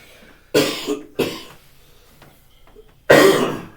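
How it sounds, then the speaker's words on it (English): Three harsh coughs ring out, two close together then one after a pause, loud and nearby against a quiet room. "Sorry for the coughing in the background."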